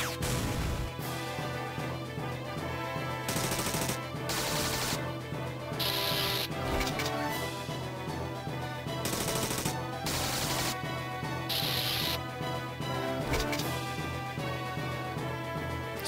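Gunshots in the video game Nostalgia, several sharp bursts spaced irregularly over a steady game music track, fairly loud and close.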